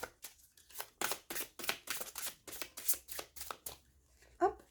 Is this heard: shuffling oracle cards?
yes